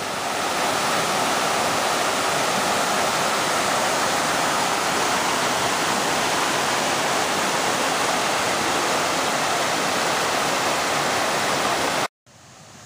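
Panther Creek in Georgia rushing steadily near Panther Creek Falls, a loud, dense broadband wash of flowing water that holds constant for the whole stretch before cutting off abruptly near the end.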